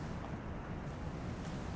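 Atlantic Ocean surf at Larache, Morocco, where the old medina meets the sea: a steady, low rumbling wash of waves with some wind noise, continuous and fairly faint, no voices.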